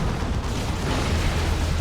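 Stranglethorn cannon fire from Tyranid Carnifexes in Warhammer 40,000: Dawn of War 2, in a battle against the Imperial Guard, gives a loud, unbroken rumble of explosive booms.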